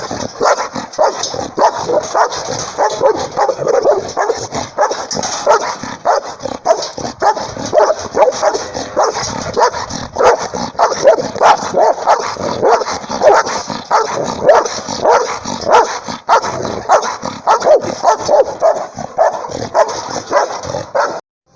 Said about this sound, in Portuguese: uns 4 cachorros pequenos vieram latindo